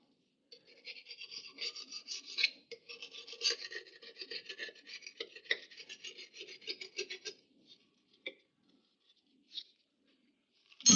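Metal scraper rasping old silicone sealant off the rear differential housing of an HZJ75 Toyota Land Cruiser, a close dry scratchy scraping in quick uneven strokes for several seconds, then sparse isolated scrapes and a sharp clunk at the end.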